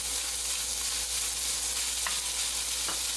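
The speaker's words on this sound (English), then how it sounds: "And just let those onions cook there, maybe 3 minutes or so." Onions and beef sizzle and fry steadily in a pot on the stove for vegetable beef soup, a constant close hiss with a couple of faint utensil scrapes.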